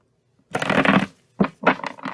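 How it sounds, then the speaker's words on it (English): Reading cards are shuffled in two bursts, a long riffling flutter followed after a pause by a shorter set of quick crisp riffs, close and clear with no talking. "Just going to shuffle up the deck a little bit until it gets tight."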